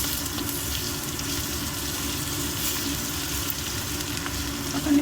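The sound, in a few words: ginger garlic paste frying in hot oil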